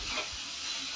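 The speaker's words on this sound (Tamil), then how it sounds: "இதை தனியாக வச்சுட்டு அதே ஆயிலே வெங்காயத்தை போட்டு நல்லா வதக்கலாம்" Onions sizzling in hot oil left over from frying dried fish (karuvadu), a steady soft hiss of sautéing with faint low bumps, close and continuous for a brief moment.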